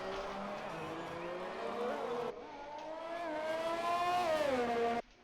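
McLaren Formula 1 car on a hot lap in a racing video game, a high, loud engine whine climbing through gears with pitch shifts and a sharp cut at the end.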